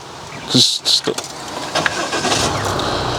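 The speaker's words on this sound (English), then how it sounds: "now if we wanted to drive off, CJ will start the car" A parked car's engine cranks and catches, with a brief starter burst followed by a low running engine, while people talk nearby.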